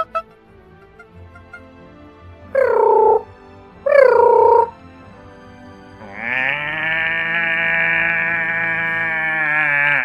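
A man imitates rainforest sounds with his voice: two short, wavering animal-like calls, then a long, steady, high buzzing drone that holds until the end, all close and fairly loud.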